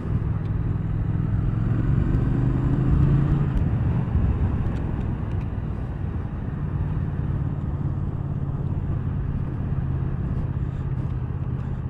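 A 2019 Triumph Thruxton R 1200 motorcycle runs with a steady, deep engine rumble and rising and falling revs, heard from the rider's position with strong wind buffeting.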